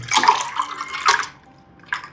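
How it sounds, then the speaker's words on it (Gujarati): Water poured into a falsa (phalsa berry) drink in a kitchen, heard as a close splashing stream for about a second, then a second short pour after a pause. "એટલા ગ્લાસ આપણે પાણી સામે નાખી દઈશું"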